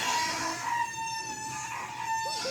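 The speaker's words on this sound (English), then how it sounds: "when you turn this on, it squeaks." An off-grid wringer washer squeaks as it is switched on, giving a thin, high-pitched squeal with ringing overtones that holds steady over a quiet background.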